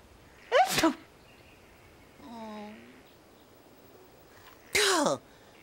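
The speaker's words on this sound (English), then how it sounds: "Sneezing reminds me of something." Two sharp human sneezes about four seconds apart, loud and close, with a soft sighing or groaning voice sound between them, at the edge of a muddy, squishy spot.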